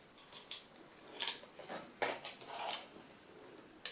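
Small metal clicks and light scrapes as a screw is backed out of the sear on a Reximex Lieva air rifle, a few quiet separate ticks close by over a still room.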